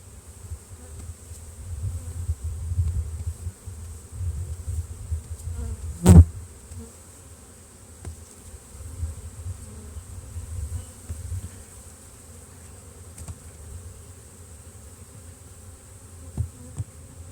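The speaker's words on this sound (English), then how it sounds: "A lot of bees there actually." Honey bees swarming around an open hive with wild comb, a steady, faint insect buzz continuing throughout, with one sharp knock partway and occasional soft handling noises.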